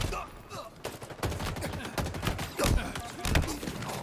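Bursts of gunfire in the shooter Halo Infinite, rapid volleys of automatic shots mixed with sharp single cracks during a firefight, mid-level and uneven across the stretch.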